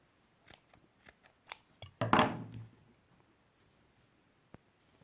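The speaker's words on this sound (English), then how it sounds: "I'm going to snip my yarn." Scissors snip crochet yarn after a slip stitch is finished: a handful of light, quick clicks followed by one louder, rasping cut, then near silence with a single faint tick.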